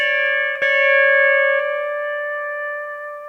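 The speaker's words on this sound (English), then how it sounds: "See how that sounds when I mute that second string out?" Pedal steel guitar lick played with the second string muted, sustained chord tones ringing steadily with a brief pick attack partway through, slowly fading alone.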